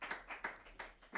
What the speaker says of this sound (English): Y'all got to give some more. Come on, claps.